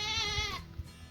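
A goat on a farm lets out a single wavering bleat in the background, moderately loud, and it trails off into quiet yard noise.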